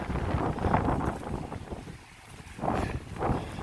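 Steady outdoor wind from Hurricane Fiona blustering and buffeting the microphone, rising and falling in gusts with no voices.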